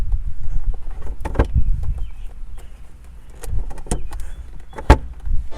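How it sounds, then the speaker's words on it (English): Inside a 1999 Mazda MX-5 Miata, the circulation dial is turned and gives several short, close clicks and soft mechanical thumps in irregular bursts over a quiet background. "Whenever you adjust it, you can actually hear it adjusting."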